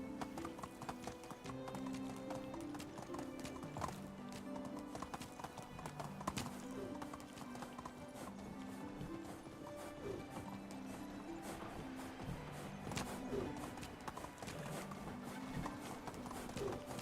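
Horse hooves clip-clopping at a steady trot in the medieval village game Medieval Dynasty, rhythmic hoofbeats continuing throughout over faint background game sound, with a whinny in places and no talk.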